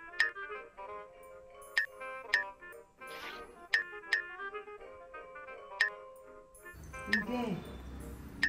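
A phone's outgoing call tone repeats in regular pulses for several seconds, fairly clear and close, with brief sounds between rings before a voice breaks in at the end.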